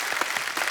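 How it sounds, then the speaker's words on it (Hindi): A television comedy show's studio audience applauds, a brief burst of dense, steady clapping heard on its own without any talking. "तालियां और जोर से होनी चाहिए जरा"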